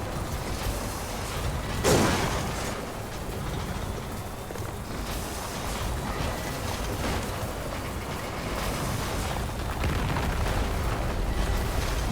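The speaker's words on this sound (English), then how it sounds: "Just gotta not get hit by the falling boulders." Dense, continuous low rumbling with crashing bursts of falling boulders tumbling and smashing in the video game Death Stranding, loud throughout with a sharper impact early on.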